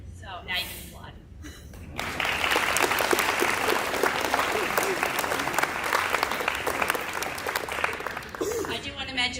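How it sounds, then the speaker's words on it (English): A middle school honors audience bursts into applause after a speech, many hands clapping densely and loudly for several seconds, with brief talk before it starts and as it ends. "so now you can applaud"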